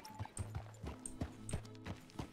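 A horse's hooves clip-clop at a steady walking pace in the Western roleplay game RedM, close and fairly quiet, with a faint murmur of voices in the background.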